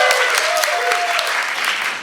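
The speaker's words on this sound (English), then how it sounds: "Let's hear applause for Skuid and then applause for Snake Eyes." Dense, steady applause from a convention panel crowd at New York Comic Con fills the whole clip, with a few whoops rising above the clapping.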